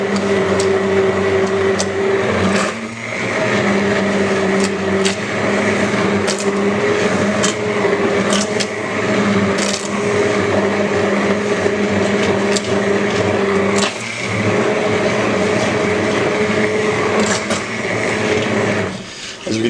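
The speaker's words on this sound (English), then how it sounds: "For a stick blender, you submerge it all the way in and just turn it on and just start stirring it around." A stick blender purées tomato basil bisque, a steady loud motor whir with no talk, its pitch shifting slightly as the blade is moved around in the thick soup.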